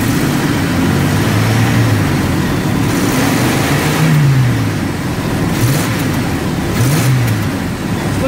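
A car engine revs unevenly with hesitation and an occasional backfire pop, loud and close, its low droning pitch rising and falling through repeated throttle blips, with no talk over it.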